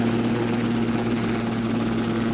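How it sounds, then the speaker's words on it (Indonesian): A helicopter from the 1980 film The Final Countdown drones loud and close, a steady rotor roar with a strong low hum, continuous and unbroken. "Komandan Owens bersama Laurel menuruni helikopter lebih dulu."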